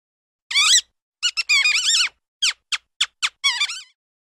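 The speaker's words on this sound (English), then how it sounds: "Mouse" A mouse squeaks in a quick series of high, chirpy calls, first one, then clustered bursts and several short separate peeps, clear and close with silence between.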